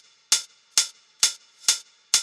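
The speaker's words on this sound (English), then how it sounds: "Then I've got this loop, this cashmere loop here." A cashmere drum loop plays five evenly spaced, crisp percussive hits in a steady rhythm. They are close and clear, with no other sound.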